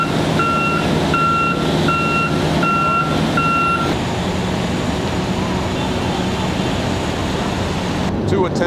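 An airport cargo loader, used to lift pallets onto a chartered aircraft, sounds a steady series of about six loud reversing beeps over constant engine and apron rumble. The beeping stops partway through and the heavy machinery drone carries on alone.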